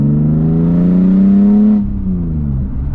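A BMW E36 M3 with a muffler delete revs hard: a loud, rising engine howl climbs for almost two seconds, then drops sharply as the throttle closes and the engine falls back toward idle.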